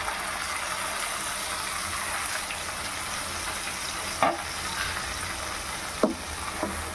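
Onion paste and ginger garlic paste frying in hot oil, with a continuous dense sizzle and two or three sharp knocks from stirring.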